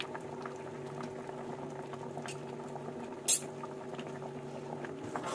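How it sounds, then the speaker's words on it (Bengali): Leaves simmer in a pot of water with a soft, continuous bubbling at low volume, close by, and one small sharp click partway through. "এটা একদম কিন্তু টকবক করে পাতাগুলো ফুটে গেছে সুন্দরভাবে"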